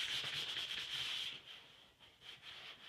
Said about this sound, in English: so I'm gonna do a little sanding. I'm gonna start with some 500 wet or dry.